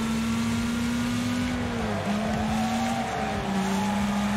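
A racing video game car engine drones at a steady, buzzing pitch that dips and recovers briefly, loud and constant, with a faint higher whine and occasional tire noise layered above.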